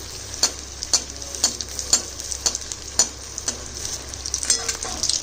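Food frying one piece at a time in hot oil: a steady hiss with a regular series of sharp crackling pops and spatters, close and fairly loud, with no talking.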